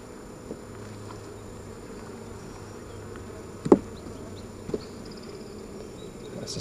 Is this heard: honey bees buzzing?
yes